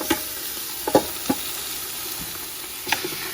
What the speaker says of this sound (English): Fry this, mix this till it turns a little crispy.